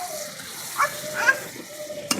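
Spices fry in a pan on a clay stove while a little broth is added, giving a soft hiss with brief stirring scrapes and a sharp clatter near the end, no talking.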